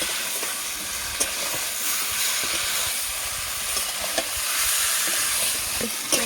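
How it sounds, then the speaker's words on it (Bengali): Boiled papaya and potato stir-frying in a pan with melted tomato, a steady close sizzle and hiss with a few light stirring clicks, no voices. "এখন আমি সেই সিদ্ধ করে রাখা পেঁপে আর আলু এগুলো দিয়ে দেবো। এটা ভালোভাবে আমি কষিয়ে নেব।"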